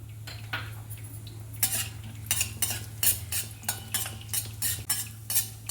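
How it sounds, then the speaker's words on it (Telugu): Cashews being fried in a pan for carrot halwa, heard as a spoon scraping and stirring against the metal pan in irregular knocks and clinks over a low steady hum, with faint sizzle underneath. "ఇప్పుడు కాజు కూడా ఫ్రై అయింది"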